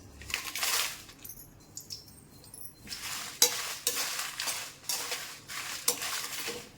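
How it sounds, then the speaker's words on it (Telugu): Dried red chillies fry in hot oil in a kadai for gongura pickle, with bursts of crackling sizzle and scraping stirs rising and falling in an irregular rhythm, close by. "నూనె వేసుకుందామండి. ఎండుమిరపకాయలు వేసుకుందాం."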